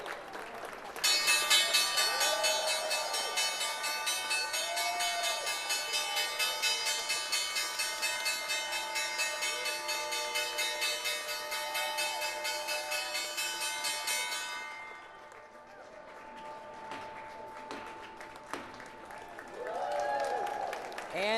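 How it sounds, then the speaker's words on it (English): A stock exchange closing bell rings continuously for several seconds over cheering and applause, then stops, leaving clapping and crowd noise. "Time for the bell."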